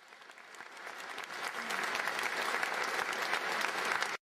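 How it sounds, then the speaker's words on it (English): Steady audience applause builds and holds for about four seconds, then cuts off abruptly. "Thank you for that applause."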